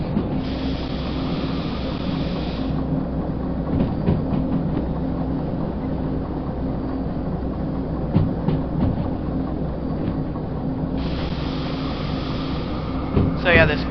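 A locomotive in the train-driving game Derail Valley gives a steady, loud mechanical rumble and drone that barely changes, with a short burst of rattling clicks near the end.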